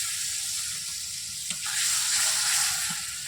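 Chili sautéing in hot oil with ginger paste and turmeric for a chicken curry, giving a steady close sizzle that swells midway, with a couple of soft clinks of a stirring utensil.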